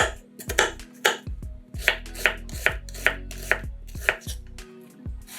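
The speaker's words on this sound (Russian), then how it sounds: "1 луковицу нарезаем кубиками." A knife dices an onion into cubes on a cutting board, sharp, close knocks landing in a steady rhythm of about a dozen chops with no talking.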